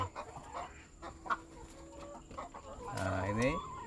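Laying hens cluck in a semi-free-range coop, sounding close with short clucks and a louder drawn-out squawking call near the end over low background noise.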